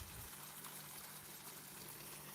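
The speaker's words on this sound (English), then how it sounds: "You can hear the waterfall" A waterfall rushes at night in Tanzania, a steady, even broadband roar with a low hum beneath it, continuous and close, with no voices over it.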